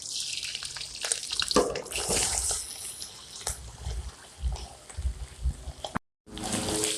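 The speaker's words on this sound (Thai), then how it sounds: "กระเทียมเหลืองนะคะเราจะใส่กุ้งลงไปเลยค่ะ" Shrimp added to garlic frying in a pan, with a steady close hiss and sputter of hot oil broken by stirring clatter and one short pause.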